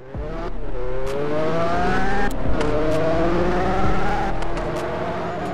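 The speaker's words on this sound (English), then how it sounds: "The Lamborghini is so loud" A Lamborghini in a Roblox racing game roars loudly, its engine pitch climbing through repeated gear shifts with brief drops between them, a close continuous revving whine with occasional clicks.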